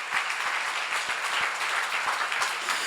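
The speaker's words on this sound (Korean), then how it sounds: "여러분 박수 세게 쳐요." A seminar audience claps in a dense, sustained round of applause that stays loud and even throughout.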